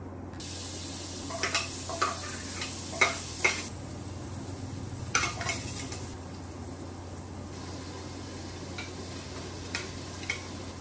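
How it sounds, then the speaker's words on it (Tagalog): Food sautéed in a pan at home, a quiet steady sizzle with scattered sharp clinks and scrapes of stirring in bursts, fading to a softer simmer later. "pag ako yung nagluluto, inuuna ko talaga ginigisa"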